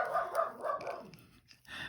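Several dogs bark indoors at a delivery person arriving, a rapid run of sharp, fairly loud barks in the first second that fades into quieter rustling before a brief noise at the end.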